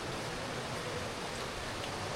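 Steady rain falls inside a cave garden in Meghalaya, a dense, even hiss of drops filling the whole stretch, continuous and fairly close with no voices.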